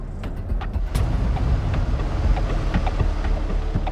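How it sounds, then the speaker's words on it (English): A dark pickup truck tailgates closely on a road, its engine rumbling steadily under road and wind noise, with a few faint clicks and knocks in the cabin. "So they weren't surprised when a pickup truck began to tailgate them."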